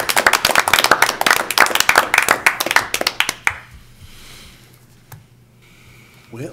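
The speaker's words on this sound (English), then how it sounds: "Well, let's have a round of applause." Park board meeting attendees give a round of applause: close, crisp clapping from a small group lasts about three and a half seconds, then stops abruptly, leaving a quiet room with a few faint sounds.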